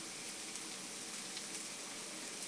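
Red chilli powder, turmeric, grated coconut and salt sizzle softly in a frying pan, a steady fine crackle with faint stirring, quiet and close, no voices.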